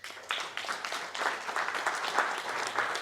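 An audience claps steadily after a talk on learning agility and designing simulations, a dense patter of many hands sustained at moderate loudness throughout, with no voices over it.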